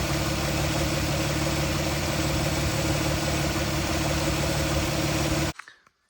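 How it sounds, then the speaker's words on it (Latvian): A Chrysler car engine idles steadily while warming up, a close, even rumble that holds without change and then cuts off abruptly near the end, leaving a brief fading rattle. "Es pielaidīšu automašīnu, sagaidīšu, kad uzsils dzinējs"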